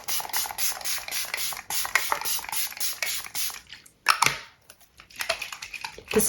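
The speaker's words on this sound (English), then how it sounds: "Now I'm gonna do a layer of setting spray" Several quick hissing spritzes from a spray bottle, close and fairly soft, with brief pauses and a couple of small clicks.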